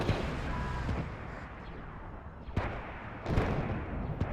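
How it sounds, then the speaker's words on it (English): A Striker unit fires a shot in a Star Wars real-time strategy game, with a deep booming blast and rumbling artillery-like impacts, including sharp thuds near the middle and a heavier burst toward the end. "The Striker's going to get one more shot off."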